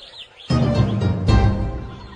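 Birds chirping in an animated gospel film of the Apocalypse: a few brief high chirps, then a loud, dense wash of noise takes over.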